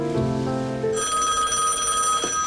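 A telephone bell rings insistently and close by, a steady electronic trill that starts after a short moment of low background sound and then runs without a break to the end.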